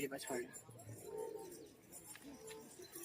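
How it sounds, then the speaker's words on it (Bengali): Giribaz pigeons in a loft give soft, low cooing calls, a few short rolling coos at close range, with a voice talking over and between them. "এগুলো গিরিবাজ পায়রা আছে হ্যাঁ, আমার বেশিরভাগই"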